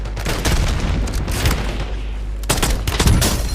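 Heavy gunfire in a video game, rapid bursts and booming shots crowding together at close range, loud and continuous with no speech.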